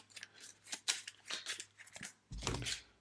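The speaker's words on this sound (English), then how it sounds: "I am going to shuffle my discard into my hand. Not in my hand, actually in my deck." Playing cards shuffled by hand while a Legendary Marvel deck-building game is played, a run of quick crisp riffling bursts across three seconds, with a fuller, louder riffle near the end, close by and with no one talking.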